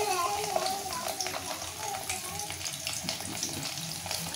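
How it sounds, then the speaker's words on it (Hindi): Garlic dropped into hot oil in a home kitchen pan, giving a steady close crackling sizzle that runs throughout with faint watery hiss and no speech. "सबसे पहले हमारा ऑयल गर्म हो चुका है। अब हम जो इसमें"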